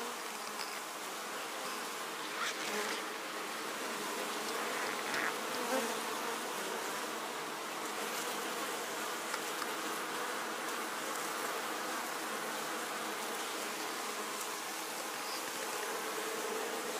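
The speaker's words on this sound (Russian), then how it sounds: "Пчелки работают." Honeybees buzzing at a hive during a rapeseed bloom, a steady, dense drone of many wings that holds evenly throughout with no pauses and no voices.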